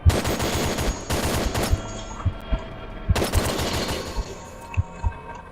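Bursts of rapid automatic gunfire rattle through an Ikea-set shooting video game, loud and close, with dense volleys broken by brief pauses and single sharp shots, no talking over them.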